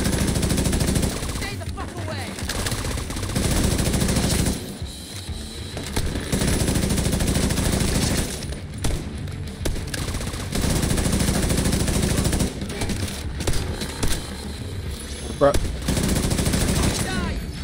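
Repeated bursts of gunfire, including a sawn-off shotgun, from The Division 2 video game, loud and close, coming in clusters separated by short lulls, with people talking over the shooting.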